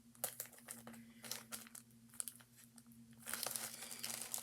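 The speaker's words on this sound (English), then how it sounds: "And I just have to put some tape over here." Tape is pulled and pressed down on a DIY fidget toy, giving close crinkling and tearing rustles in short bursts, with a longer, louder stretch of ripping toward the end.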